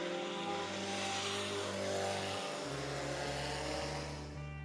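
Hornet front-wheel-drive race cars lapping Paragon Speedway, a loud continuous engine drone with pitch shifting as cars pass and change gears, steady roar throughout without talk.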